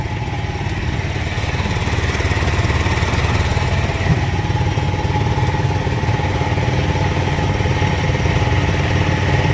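A Club Car Carryall utility vehicle with a swapped-in BILT HARD 420 engine runs steadily with a loud, rough, chugging mechanical drone and a slight jitter, close by and without talking.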